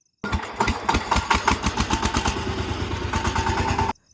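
A tractor engine runs steadily up close on a farm, a rapid chugging diesel beat sustained throughout before cutting off abruptly.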